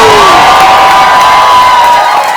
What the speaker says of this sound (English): The cheering going on here is deafening.